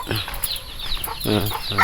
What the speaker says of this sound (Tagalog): Daghang kay manok.